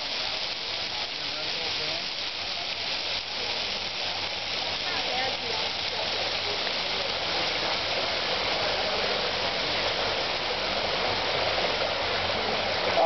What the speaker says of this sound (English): I'm gonna go see where this waterfall begins